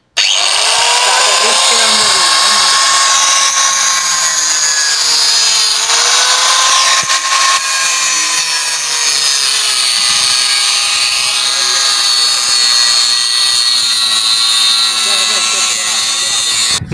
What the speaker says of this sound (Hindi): तो ये है ग्राइंडर और अब स्टार्ट करते हैं।